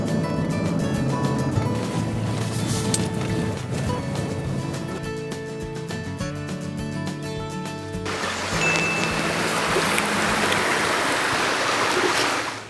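Mountain valley stream beside an outdoor cooking setup, a loud steady rush of flowing water close by; earlier, faint tonal background sound overlaps the flow.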